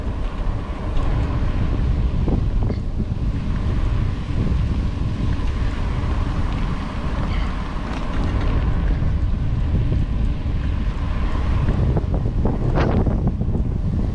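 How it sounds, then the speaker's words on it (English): Strong wind buffets the microphone on a coastal bike trail in the Lower Florida Keys, a constant loud low rumble with gusty fluctuations lasting throughout, no voices. "It's windy today"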